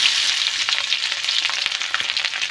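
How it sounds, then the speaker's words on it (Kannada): Mustard seeds, cumin and crushed garlic fry in hot oil for a mango pickle tempering, giving a steady, close, crackling sizzle with sharp pops throughout and no voices. "ಸೊ ಆಯಿಲ್ ಚೆನ್ನಾಗಿ ಕಾದ್ಮೇಲೆ ಸ್ವಲ್ಪ ಸಾಸಿವೆ ನಂತರ ಜೀರಿಗೆ ಆಮೇಲೆ ಜಜ್ಜಿಟ್ಟಿರೋ ಅಂತಹ ಬೆಳ್ಳುಳ್ಳಿ"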